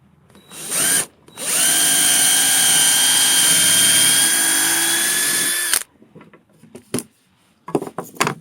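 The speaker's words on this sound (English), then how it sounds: "Now drilling." A power drill whirs in a short burst, then runs steadily for about four seconds at high speed drilling holes for a sword build before stopping, followed by faint clicks and handling noises.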